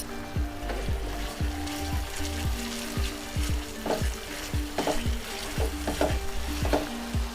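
Apple halwa cooks in ghee in a pan, with a soft frying sizzle under repeated rhythmic spoon strokes scraping and stirring the thick mixture close by.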